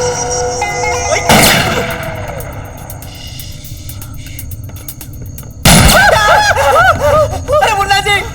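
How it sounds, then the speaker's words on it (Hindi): Two sharp gunshot blasts ring out several seconds apart, the second followed by excited voices and laughter. "आप हम पे क्यों गोली चला रहे हैं?"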